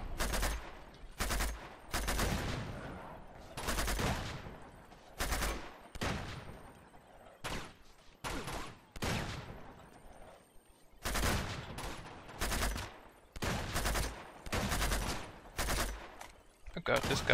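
Gunfire from a weapon in the video game Uncharted 2 comes in rapid bursts of sharp shots, some clusters dense and fast, others spaced apart, loud and close with brief gaps between volleys.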